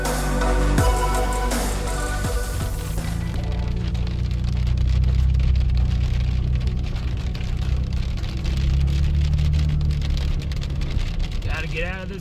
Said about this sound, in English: Gotta get out of this rain!